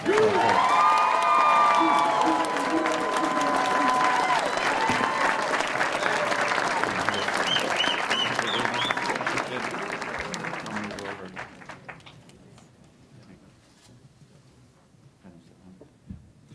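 A graduation audience at the UMHS 2013 ceremony breaks into loud applause with cheers and whoops, sustained for about ten seconds before tapering off to scattered claps and quiet.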